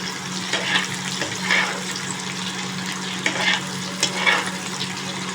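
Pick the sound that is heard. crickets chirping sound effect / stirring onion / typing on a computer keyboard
stirring onion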